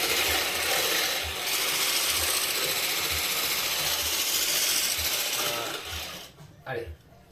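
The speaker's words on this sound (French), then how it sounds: "Il faut dessiner un 8 avec le batteur." Electric hand mixer beating tiramisu cream in a bowl, a steady whirring buzz with a rhythmic clatter as the beaters trace loops, running loud throughout before cutting out near the end.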